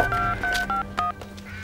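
A telephone being dialed, producing a quick sequence of several close touch-tone beeps of varying pitch with short gaps between them, with no talking.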